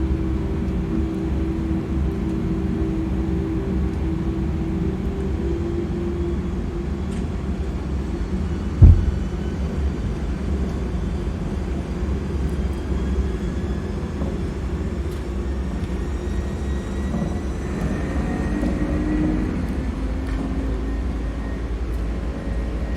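Airbus A300-600 cargo jet engines on the takeoff roll: a steady broad roar with a deep low rumble throughout, one sharp thump near the middle, heard from inside the cockpit without talk.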